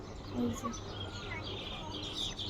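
Myna birds call from the rooftop and nearby trees, giving faint, scattered chirps over soft background noise, with a person talking briefly nearby.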